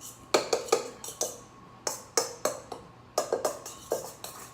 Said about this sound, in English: we've given that a good mix through